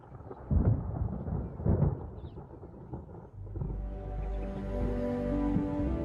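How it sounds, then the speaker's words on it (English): Thunder rolls over Botswana as storm clouds mass, two heavy low rumbles early on, then a long sustained roar of rain and distant thunder building steadily with no voices. "Throughout Botswana, storm clouds are massing."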